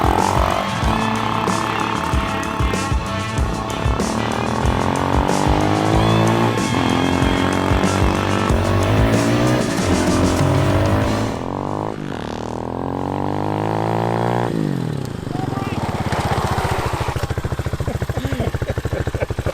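An Amazon Hawk DLX motorcycle rides off-road, its engine loud and close and rising and falling in pitch through repeated revs and gear changes, with rushing wind throughout.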